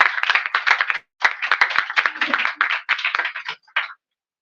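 Audience applause at a community book giveaway event, a burst of hand clapping in several bursts with brief gaps, ending with a short final clap cluster before silence.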